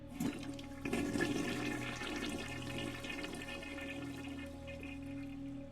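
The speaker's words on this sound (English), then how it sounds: "I jump at the sound of a running shower" A running shower in the visual novel Steins;Gate: steady rushing water with a louder gush at the start, settling into an even spray that continues at moderate level, with no talking.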